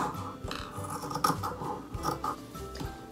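Scissors cut through fabric for a trouser waistband, giving repeated close snipping and scraping strokes in a steady rhythm.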